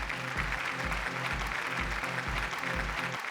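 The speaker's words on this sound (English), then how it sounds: "Give him a round of applause." An awards-ceremony audience at the Car India and Bike India Awards applauds a founder and mentor being welcomed on stage, the dense, even clapping running under a thumping rhythmic musical beat.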